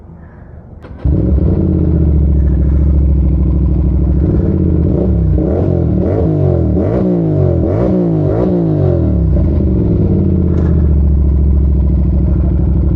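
An Aprilia RS 457 motorcycle on a road in Uttarakhand fires up after a second of quiet, then settles into a loud, close exhaust note with a run of sharp throttle blips and revs before easing back to idle.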